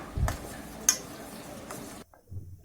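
A spoon stirs sunflower oil into bun dough made with pumpkin and coconut, a few soft clinks and scraping strokes in a bowl, then the stirring stops and a faint low rumble follows.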